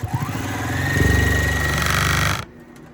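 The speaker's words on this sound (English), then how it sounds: "So we're just going to continue sewing." A sewing machine stitches a beginner quilt, its motor running up into a fast, even whirring hum with rapid needle clatter that keeps steady for a couple of seconds, then stops abruptly. The sound is close and there is no talking.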